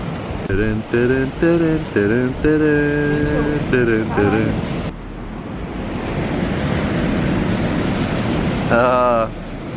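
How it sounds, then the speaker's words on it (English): Strong wind roars and buffets the microphone near crashing surf on the Big Sur coast in California, with people talking over it at first before the gusts take over. "It's just way too windy at the moment."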